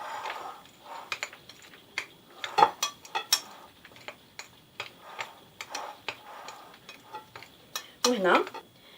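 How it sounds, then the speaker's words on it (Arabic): Macaron batter being mixed in a bowl, a spoon or spatula scraping and tapping against the sides in an irregular series of clicks and knocks, fairly close, with quiet gaps between strokes. "فوالا هنا نخلط لي 3 انغريديون."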